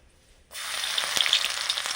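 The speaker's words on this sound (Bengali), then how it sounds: "সর্ষের তেল দিয়ে শুকনো লঙ্কা দিলাম" After a half-second of quiet, dried red chillies drop into hot mustard oil and burst into a loud, bright, hissing sizzle with a few sharp pops.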